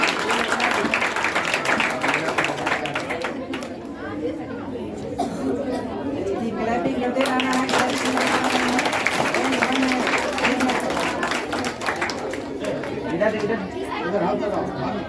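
An audience at a school award function claps and chatters as a student is called to the stage, a busy crowd wash of applause mixed with voices that stays steady throughout.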